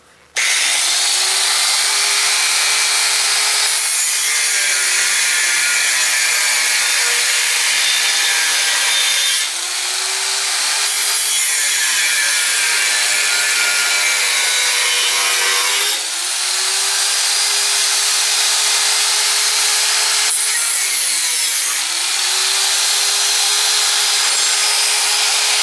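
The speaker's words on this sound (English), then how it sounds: "Now I gotta cut that off with my angle grinder with the cutoff wheel." Angle grinder with a cutoff wheel cutting through metal while building an oil tank for quenching knife blades, one loud continuous screaming whine whose pitch dips and recovers several times as the wheel bites.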